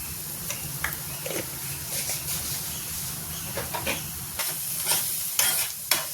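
Onion and garlic fry in a pan with a steady close sizzle while a spatula stirs and scrapes in repeated bursts, the hiss continuous beneath.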